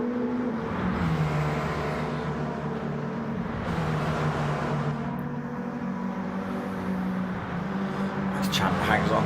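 Renault Clio Cup race cars in a racing video game drone through a corner at Kyoto's Yamagiwa layout, with sustained engine tones rising and shifting under continuous commentary.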